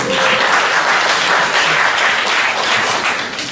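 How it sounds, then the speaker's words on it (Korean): An audience at a book concert with a lecture gives loud, dense applause that runs steadily throughout and tapers slightly at the end. "박수 한번 주세요"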